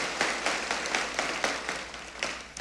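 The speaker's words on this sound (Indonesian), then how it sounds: "Katakan amin dan tepuk tangannya boleh yang paling meriah buat Tuhan." A church congregation applauds at a sermon, a dense, sustained patter of many hands with loose rhythmic pulses, moderately distant and steady throughout with no one talking.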